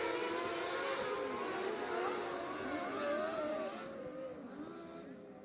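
Hyper Racing 600 sprint cars on a dirt oval at Action Track USA, their engines a loud continuous roar with shifting pitch as they run the closing lap of a heat race, fading slightly near the end, crowd-level noise all around.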